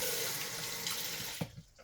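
Water rushes steadily from a pedal-operated toilet in a full flush, loud and close, then drops away abruptly with a couple of small knocks as the flow ends, no talk.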